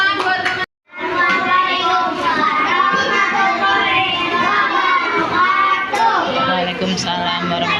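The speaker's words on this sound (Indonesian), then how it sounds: "Tepuk tangan buat teman." A first-grade class of schoolchildren clapping together for a classmate, a lively burst of many small hands with children's voices chattering through it, breaking off briefly before resuming.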